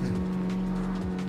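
Engine drone of a Mazda Miata drifting in the racing video game CarX Street, a steady loud tone with a rising tire-squeal sweep, continuous over the short stretch.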